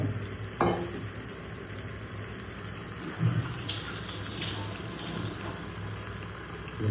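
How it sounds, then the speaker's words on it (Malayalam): Mashed taro root being mixed into a masala in a pan, a close, steady scraping and stirring texture with light sizzle and a couple of soft knocks, with no voices. "നമുക്കൊന്ന് നമ്മുടെ മസാലയോടൊപ്പം ഒന്ന് ഇളക്കി മാറ്റുക."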